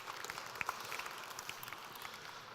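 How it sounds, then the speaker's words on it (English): Quiet, distant audience applause at a digital innovators' summit after a first-ever presentation, a soft continuous patter of clapping with a few sharper individual claps. "a quick round of applause for Tobias there"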